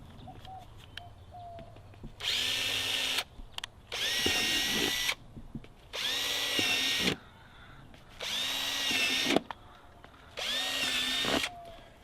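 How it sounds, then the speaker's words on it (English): Power drill boring drainage holes for a wicking garden bed, five separate bursts of loud high whine a second or so each with quiet gaps between, faint birds in the background. "I'm just going to drill a couple of holes just right at this line"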